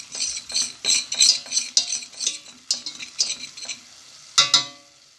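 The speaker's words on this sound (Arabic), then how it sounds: "وغادي نحركو حتى نطيبو" A spoon scrapes and stirs a flour roux in a pan for béchamel sauce, giving repeated rhythmic clinks and scrapes with a light sizzle, close up and with no talking.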